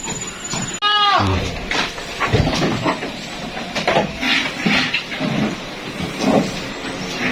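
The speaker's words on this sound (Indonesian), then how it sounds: "Gimana sih kondisinya kambing Suro saat ini" Goats bleat repeatedly in a pen at a farm where a prize-winning red-headed PE (Peranakan Etawa) goat is kept, with loud, close calls in overlapping bursts amid background chatter and livestock noise.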